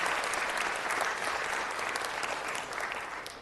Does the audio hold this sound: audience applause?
yes